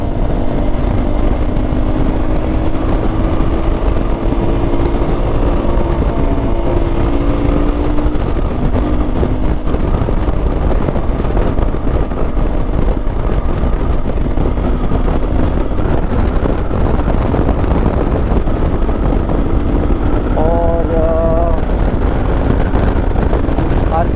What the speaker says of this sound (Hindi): भाई की जो बाइक है उसको टो कर रहे हैं, ये लोग टो करके ले जा रहे हैं।